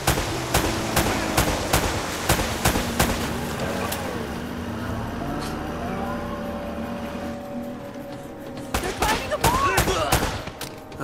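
Gunfire in Uncharted: Drake's Fortune, a firefight during an ambush with loud, close sharp shots in rapid clusters, a lull in the middle, then more bursts over rumbling ambience, with voices at times.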